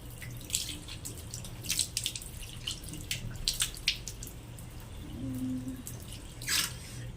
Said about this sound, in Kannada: ಇವಾಗ ನಾನು ಮುಖ ತೊಳ್ಕೊಳ್ತೀನಿ